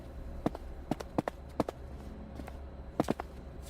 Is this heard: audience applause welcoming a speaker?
no